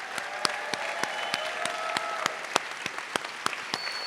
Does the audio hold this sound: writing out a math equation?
no